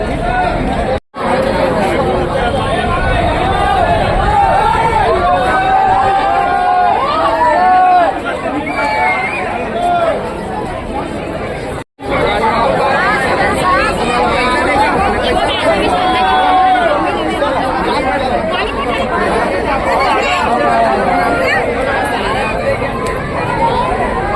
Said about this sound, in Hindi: आप लोग देखिए इतना ज़्यादा संख्या में भीड़ है